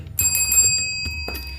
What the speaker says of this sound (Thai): อย่าลืมกดกระดิ่งกริ๊งกริ๊งนะคะ